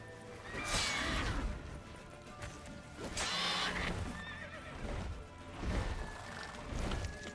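Roach, the horse in the video game Witcher 3, gallops with steady, loud clip-clopping hooves, broken by several sharp neighs and whinnies, close and continuous throughout.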